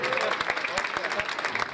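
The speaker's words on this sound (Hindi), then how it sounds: "ताली बजाइए आप लोग" A school audience at a coaching-class prize distribution ceremony claps steadily together, a brisk patter of many hands with a faint murmur of voices underneath.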